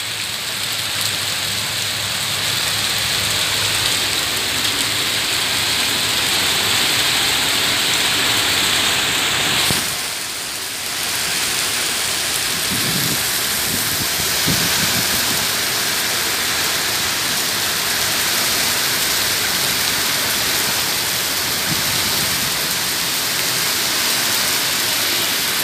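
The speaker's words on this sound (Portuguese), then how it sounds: "A chuva que tá dando hoje é uma chuva muito forte," Heavy rain pours with strong wind in Maringá, a dense, constant roar that briefly dips near the middle before resuming at full force.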